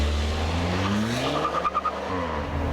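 A 2019 Hyundai Veloster Turbo's engine note, partly artificially generated, hums steadily and moderately loud with a brief rise in pitch, as if accelerating.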